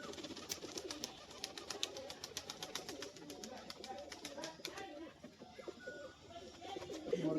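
Pigeons coo softly in a loft, low repeated calls under faint background noise, with sharp clicking ticks sounding in a quick series through the first five seconds.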